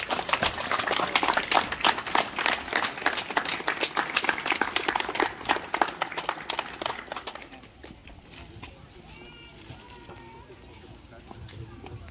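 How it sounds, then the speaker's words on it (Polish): Applause for a firefighter at a volunteer fire brigade gathering in Wadowice Dolne, brisk crowd clapping for about seven seconds before trailing off into quieter room noise and voices. "Duże brawa."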